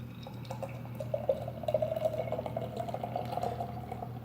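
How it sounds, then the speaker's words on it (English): Guinness Nitro IPA beer is poured from a can into a glass, a soft continuous gurgling and splashing pour heard up close at low volume, with no talking. "Let's give it a pour."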